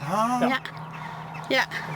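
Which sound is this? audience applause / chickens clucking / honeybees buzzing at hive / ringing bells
chickens clucking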